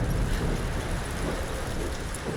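Tomb Raider 2013 video game, a canyon swept by powerful wind that roars low and heavy in a continuous turbulent rush, loud and without pause for a couple of seconds.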